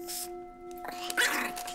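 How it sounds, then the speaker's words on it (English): A dog in a Korean horror TV series barks a few quick times at a man and at food, the barks rising over a steady electronic hum and a faint voice. "the dog was barking at him and is barking at the food"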